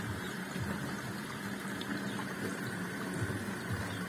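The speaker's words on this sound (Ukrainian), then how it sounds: "О, бачите, вода шумить, вода біжить." A Bosch dishwasher with an E15 fault fills with water, giving a steady rushing flow and pump-like hum that holds at an even level for the whole stretch, fairly quiet and close, with no talking.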